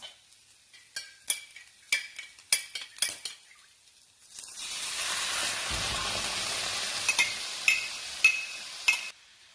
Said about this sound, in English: So now the sauce is boiling.